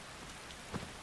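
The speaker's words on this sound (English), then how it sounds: "Hunting down necromancers in the rain in the woods is like I said, this is not a very good idea" Steady rain falls in a forest in Skyrim, a soft, even hiss of drops on foliage with a faint rumble, and no voices over it.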